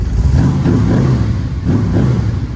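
A 585-horsepower 1965 Shelby Cobra 427 replica by Superformance revs hard in a deep, throbbing rumble, loud and close, surging in a few pulses, shaking the steering wheel.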